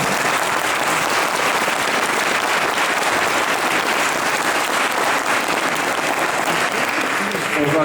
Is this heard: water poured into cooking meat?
no